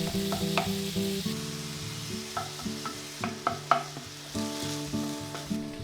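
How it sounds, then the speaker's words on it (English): Ground chicken sizzles in a hot frying pan over medium heat, with occasional scraping and tapping from stirring and a steady tonal hum in the background. "Heat a frying pan over medium heat and add 1/3 of the ground chicken."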